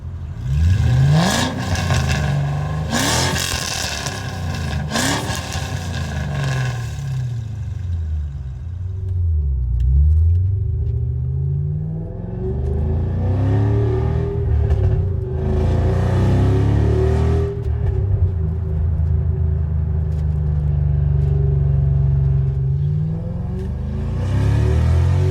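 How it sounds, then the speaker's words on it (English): A 4-valve modular V8 in an SN95 Ford Mustang Cobra with the mufflers removed revs hard several times, then settles into a loud, rumbling idle and lower revs, close to the microphone. "4-valve modular motors have a fantastic sound"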